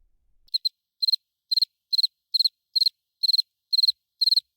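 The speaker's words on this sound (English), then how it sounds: "There was crickets there." Crickets chirp alone in clear, evenly spaced bursts of three or four quick pulses each, loud and close against total silence and repeating steadily.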